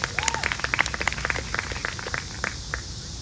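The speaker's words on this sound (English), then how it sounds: "Give him an 11-year-old big round of applause there." A state fair audience claps for an 11-year-old boy at a whip show, a brief burst of crowd applause with scattered individual claps and some voices mixed in.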